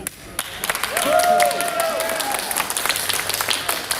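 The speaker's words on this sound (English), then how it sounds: "let's do this by a round of applause" Audience applause and cheering at a Mario Kart 8 Deluxe 6v6 league draft event at a convention swell up and continue steadily, a crowd clapping together with some shouts mixed in.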